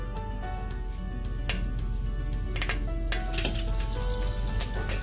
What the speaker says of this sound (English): I'm going to add the fennel seeds first.